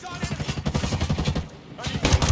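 Automatic gunfire in the tactical shooter Ghost Recon Breakpoint, rapid loud bursts in a steady rhythm, a brief pause, then another burst.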